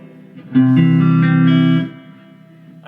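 Guitar chord through a Vintagesoundamps VS410 amp with its stock speakers, rung out loud for over a second with reverb, then fading into a lingering ringing tail.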